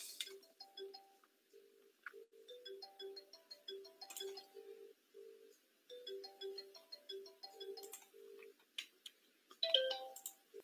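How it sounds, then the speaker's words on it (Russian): An office desk phone rings as part of a 3CX call group, playing a repeating melodic ringtone of short electronic tones in regular phrases with brief gaps. It sounds close and moderately quiet, with a few clicks near the end. "В моем случае сейчас играет настольный телефон"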